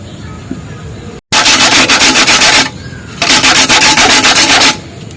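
An old brass lamp is scraped against a metal grater in two loud, rapid bursts of rasping strokes separated by a short pause, harsh and close.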